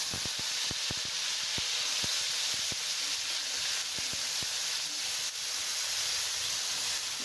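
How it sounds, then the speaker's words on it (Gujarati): Sliced onions and potatoes sizzling in hot oil, a steady bright hiss running throughout, dotted with scattered sharp pops and crackles; no one speaks. "હવે નાખીશું આપણે ડુંગળી બટેકા"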